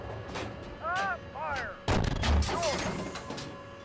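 Tank gun firing in combat, a heavy booming shot that lands about halfway through, with a second blast just after it, while excited radio voices talk in the background.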